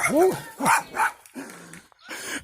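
A dog barks in short, loud bursts outdoors during a walk past a field of cows, a few yaps and a low growly note breaking up the moments of speech nearby.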